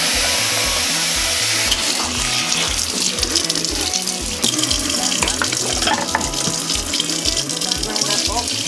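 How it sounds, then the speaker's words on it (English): Cold water runs from a tap over rice being washed in a pot or bowl, a loud continuous splashing and swishing with rhythmic stirring pulses, close by. "So I'm going to wash the rice with cold water."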